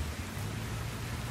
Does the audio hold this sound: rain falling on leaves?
yes